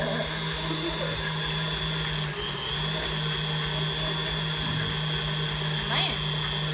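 An electric mixer whirs steadily through chocolate chip cookie dough, a constant motor hum and high whine running the whole time with a brief dip partway through.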